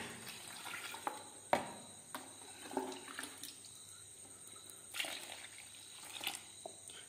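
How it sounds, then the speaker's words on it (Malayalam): Diluted polymer is poured onto a granite stone mix for a glittering arch, giving faint intermittent splashing and trickling bursts with scattered handling knocks. "ഈ ഡൈലൂട്ട് ചെയ്തിരുന്ന പോളിമർ നമ്മൾ ഒഴിക്കുകയാണ്"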